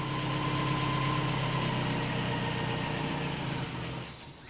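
An old Toyota truck engine idles nearby with an even, humming rumble that holds steady, then drops in level just before the end; no one talks.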